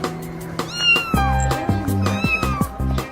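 A cat meows repeatedly in drawn-out, rising and falling cries, close and fairly loud, mixed over a layer of background music and clatter.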